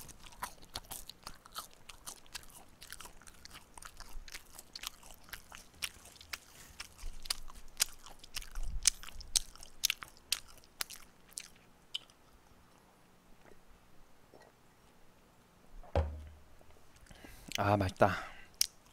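Close, crisp crunching bites and steady chewing of pepperoni pizza crust, repeated throughout, with a few soft murmured words near the end.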